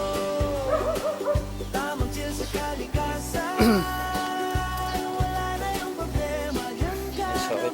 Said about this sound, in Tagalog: Nag-ingay na naman yung aso.